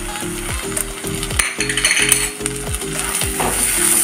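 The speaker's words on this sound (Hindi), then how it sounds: "सभी को अच्छी तरह मिलाएंगे" Garam masala and cumin powder being mixed in a pan with a spatula, giving rhythmic scraping strokes roughly twice a second over a steady low hum, close and fairly loud.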